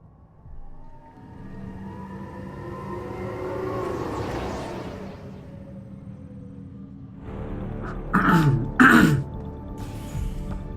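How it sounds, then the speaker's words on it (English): A man clears his throat with a couple of harsh, loud rasps near the end, following a stretch of video game engine and ambient noise. "Sorry about that. I need to clear my throat,"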